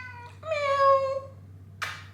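A house cat meows once close by, a drawn-out rising and falling cry preceded by a brief chirp and followed by a quick rustle, over a steady low hum in a quiet room.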